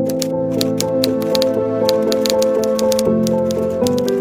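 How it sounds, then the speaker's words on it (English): An old typewriter clatters away in a fast, uneven run of sharp key strikes, continuous and close, with a sustained tonal musical backdrop underneath. "For Helmuth, it was time to sit down and start typing up the truth."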